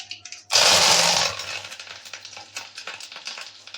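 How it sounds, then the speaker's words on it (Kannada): Mustard seeds, cumin and curry leaves hit hot oil with a sudden loud burst of sizzling, which settles into steady crackling and popping for a few seconds, close up. "ಜೀರಿಗೆ ಸಾಸಿವೆ ಚಿಟ್ಕುಟ್ಟೋ ಸೌಂಡ್ ಕೇಳ್ತಿದೆಯಲ್ಲ ಫ್ರೆಂಡ್ಸ್."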